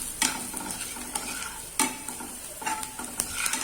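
A spatula stirs onion, turmeric and red chilli powder through frying oil in a pan, several distinct scraping strokes over a constant low sizzle, close and irregular in rhythm.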